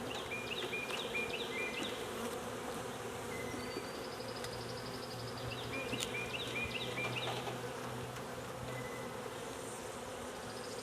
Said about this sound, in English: I don't know where all these bees came from